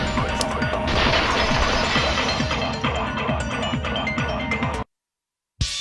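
A vase shatters in Danganronpa 2, a loud sustained crash with scattered glassy clinks that runs nearly five seconds before cutting to silence, then briefly resumes.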